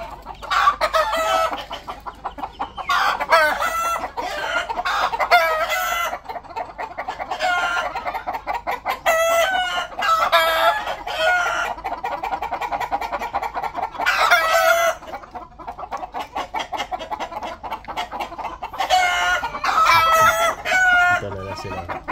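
Chickens and roosters in a poultry yard cluck repeatedly and crow several times, loud and close.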